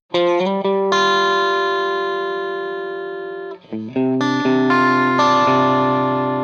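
Distorted electric guitar plays two sustained chords from a riff, loud and close, ringing out with heavy effects before a brief gap and a quick restrike into the second chord.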